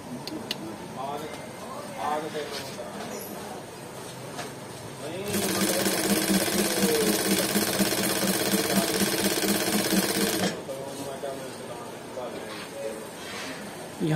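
An automatic computerized sequin machine runs loudly and steadily, stitching 5mm and 9mm latkan sequins onto lace for about five seconds in a fast mechanical rhythm, with quieter machine noise and talk before and after.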